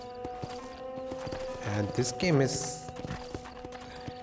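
Horse hooves clip-clopping in a video game set in old America, a faint run of hoofbeats and a short whinny over background game music, with someone talking.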